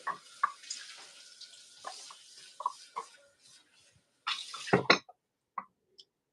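Water from a kitchen tap running in short bursts while something is rinsed, with drips, splashes and clatter in the sink, and a louder gush near the end before it stops.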